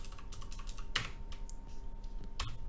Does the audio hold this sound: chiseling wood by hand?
no